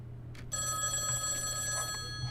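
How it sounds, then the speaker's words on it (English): A telephone rings in the Dear Devere visual novel game, a sustained electronic bell tone starting after a brief pause and holding steady and clear, with no talking. "It's the phone again."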